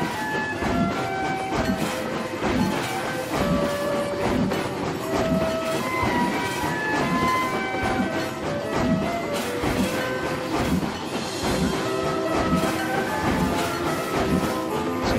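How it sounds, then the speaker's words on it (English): A train rumbles past in the game Planet Coaster with rhythmic clattering of wheels over the tracks, steady and fairly loud, mixed with layered tones like game music. "That train crossing here."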